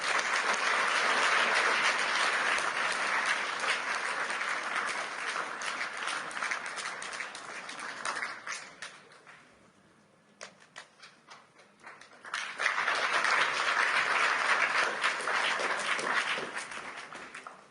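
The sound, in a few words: audience applause for the co-chairs on stage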